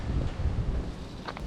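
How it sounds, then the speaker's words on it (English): Gusty wind buffeting a microphone outdoors on a windy day while work is done on a van, a steady low rumble that swells and dips, with no talking. "Real windy day, so I'm not sure if you can hear me"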